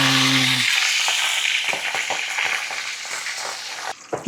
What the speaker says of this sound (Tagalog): Iprito na po natin to.